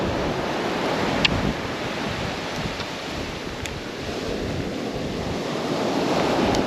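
Sea surf surges up Beesands Beach during a monsoon storm, a loud, continuous roar of waves mixed with heavy wind buffeting the microphone.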